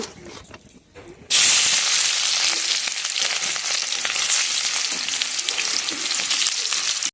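Sliced onions dropped into hot oil while making an egg curry, starting a sudden loud, dense sizzle that holds steady and close for several seconds after a quieter lead-in, with no speech.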